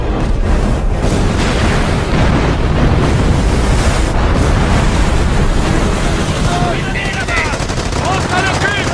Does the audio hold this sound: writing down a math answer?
no